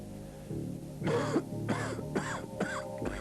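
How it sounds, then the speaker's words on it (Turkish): A smoker coughs and clears their throat several times in rough, rasping bursts, close up, with short pauses between them. "Bu da sigara içenin öksürmesine yol açar."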